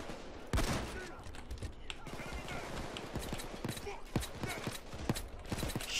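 Rapid bursts of gunfire in the video game Payday 2 during a biker heist, loud and dense, with repeated sharp shots rattling across the scene over a busy background.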